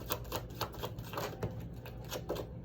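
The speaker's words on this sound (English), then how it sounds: "I don't know why I'm still shuffling the cards." Playing cards are shuffled, giving quick bursts of crisp riffling clicks that repeat in a loose rhythm, close and fairly loud, with no speech.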